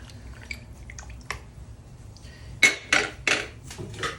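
Beef caldereta with a little added water being stirred in a pressure cooker: a few soft scrapes and clinks, then four louder metallic knocks of a utensil against the pot in an even rhythm, close by.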